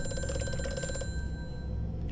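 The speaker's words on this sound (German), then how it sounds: "Oh, Telefon!" A telephone rings in the video game Amnesia: A Machine for Pigs, a sustained bright metallic bell ring that stops about halfway, leaving a low hum.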